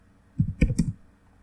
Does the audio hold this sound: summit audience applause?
no